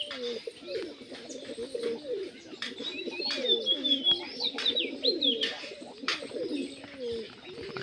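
Pigeons cooing near a nest with eggs and chicks, layered throaty coos repeating in soft rolling phrases, with thin chirps and twitters over them, close and moderately loud, no talking.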